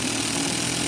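A Toyan Sand Cruiser model engine runs steadily in reverse gear, a continuous near buzzing drone with no pauses across the short stretch.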